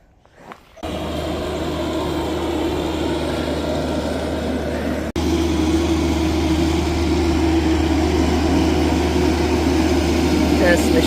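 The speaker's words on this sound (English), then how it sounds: "A mini skid steer." A mini skid steer engine runs steadily on a homestead while mulch from a wood chip drop is spread, a loud continuous low drone that starts after a brief quiet moment and carries on without a break.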